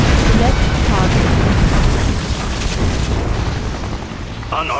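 A nuclear missile detonating in the strategy game Command & Conquer Generals (ShockWave mod, China skirmish): a loud, dense, rumbling blast that roars continuously and slowly tapers off, with faint game unit chatter beneath it.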